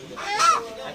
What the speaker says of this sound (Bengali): এটা মুরগিটা হচ্ছে সোনালি